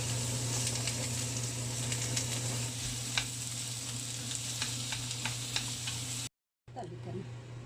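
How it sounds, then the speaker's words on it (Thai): Onion sautéing in oil, a soft steady sizzle with scattered light stirring ticks and a low hum beneath, briefly cutting to silence near the end before the frying resumes faintly. "เราจะเอาหอมใหญ่นะคะ มาผัดกับน้ำมันนะคะ"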